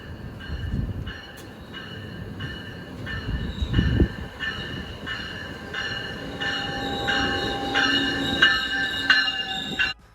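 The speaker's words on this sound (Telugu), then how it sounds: "సో నేను నేను కావాలనే ట్రైన్ సౌండ్ పెట్టా, జస్ట్ న్యాచురల్గా ట్రైన్ వచ్చిందని తెలియడానికి" A double-decker passenger train arrives in Canada, its wheels squealing in a steady rising tone over a rumbling roll and rhythmic clacks of the cars, ending abruptly.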